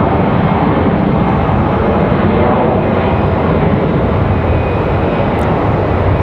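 A Canadian Mantis aircraft touching down and back-taxiing at Raleigh-Durham International Airport, a steady, loud broadband engine roar that holds without a break, close and unbroken, with no voices.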